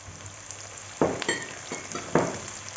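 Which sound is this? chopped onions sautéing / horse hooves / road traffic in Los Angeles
chopped onions sautéing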